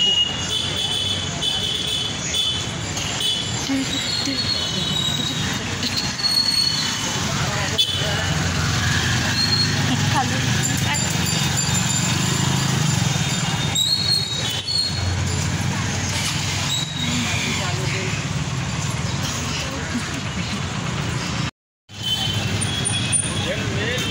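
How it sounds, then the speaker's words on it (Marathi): Busy Thane railway station platform in India, with a dense wash of crowd chatter, engine rumble and traffic-like noise throughout, a brief hiss of brakes and a momentary drop-out near the end; people talk under the din. "हे आहे ठाणा स्टेशन."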